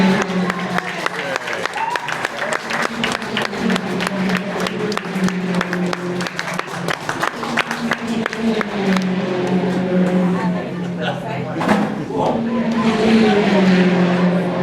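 BTCC touring cars at Snetterton charge down hard on the brakes into a corner, loud engine roar with rapid rhythmic revving and downshift bursts throughout, a crowd and commentary audible underneath.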